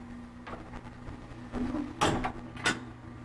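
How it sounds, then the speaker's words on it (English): Private home elevator car of the American Crescent type rising past landing doors, with light latch clicks and mechanical knocks from the door hardware over a steady machine hum, a few louder clacks near the end. "And you could hear the clicking by the latch."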